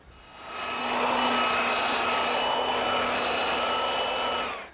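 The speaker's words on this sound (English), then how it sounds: "the first thing I want to do is scrape off the excess glue and lightly sand both sides" A power sander works across glued-up wooden panels for a settle seat, spinning up to a loud, steady whine that holds for several seconds before winding down, close and alone.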